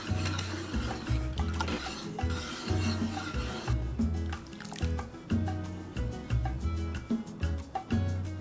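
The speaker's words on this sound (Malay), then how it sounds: "Nyalakan api dan kacau sehingga adunan berkilat." A spoon stirs and scrapes a thick corn pudding mixture made with custard and water in a pot over the heat, in steady rhythmic strokes close up with a continuous wet rasping.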